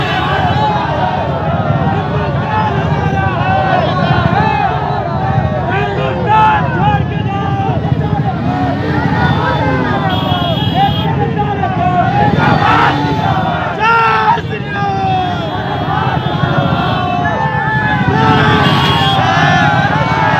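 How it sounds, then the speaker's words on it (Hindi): A dense crowd chants Jai Shri Ram slogans at a street rally in Muzaffarpur supporting NRC and CAA, a loud, continuous roar of many voices with band music and red flags, steady throughout. "यात्रा के दौरान लोगों ने जय श्री राम का नारा लगाया।"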